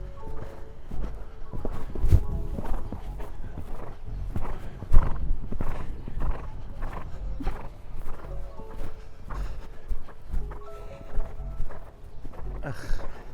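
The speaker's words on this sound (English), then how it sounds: "Told you gotta ride this horse a little off the ground." A horse at a show-jumping ingate walks with steady clip-clop hoofbeats on firm ground and lets out a whinny, close and clear, while people talk nearby.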